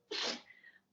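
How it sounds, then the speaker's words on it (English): One short, sharp sneeze from a dog, close by, followed by a brief snuffly breath. "My dog's sneezing."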